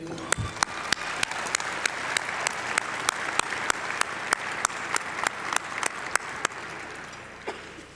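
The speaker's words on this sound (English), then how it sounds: "Please join me in a round of applause to thank this great committee." Gala audience giving a round of applause to thank a committee, dense steady clapping from a crowded room that carries on throughout, with a few sharp nearby claps standing out.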